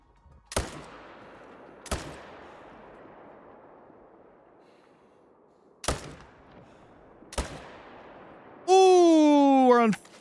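Rifle shots in the hunting video game Call of the Wild: four loud, sharp reports spaced a few seconds apart, each trailing a long echoing decay across open terrain, then a tonal in-game sound at the end.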